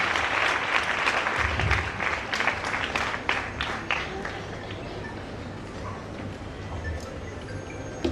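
A church convention audience claps to welcome a speaker, loud and dense at first, then thinning into scattered claps as it fades out.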